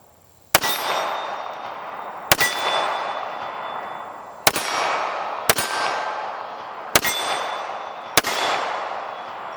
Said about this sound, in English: Let's just reach out there and shoot some. Go a little smaller target.